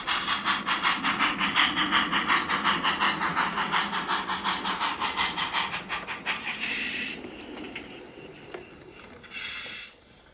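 A model diesel locomotive running on a track after a decoder CV adjustment, its rapid rhythmic chuffing and hiss loud and steady for about six seconds, then dying away to quieter whirring and faint clicks.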